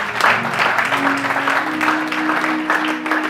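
Church congregation clapping in praise of the Lord, a dense, continuous wash of applause filling the whole moment at a steady level, with voices mixed in.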